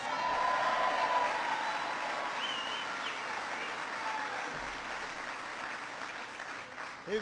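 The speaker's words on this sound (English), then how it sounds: "so give him a big round of applause" A crowd at a political speech in Minnesota applauds steadily throughout, a broad wash of clapping that holds at an even level before tapering slightly near the end.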